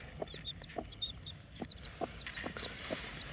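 Chicks being fed sunflower seeds and broken nuts peep in high, thin chirps, with soft low clucks in between. The sound is faint and close, with no talking.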